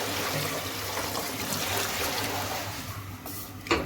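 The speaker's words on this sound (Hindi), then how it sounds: "अब यहाँ पे मैं पानी ऐड करूँगी" Water is poured into a pot of potatoes that were just fried for a potato chicken gravy, a steady trickling splash in a home kitchen that ends with a brief clink near the close.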